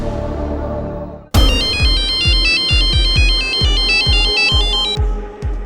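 A phone ringtone bursts in as the kidnappers call the father, a loud repeating electronic melody with a rhythmic beat that rings steadily for several seconds after a short quiet stretch, in a crime drama scene.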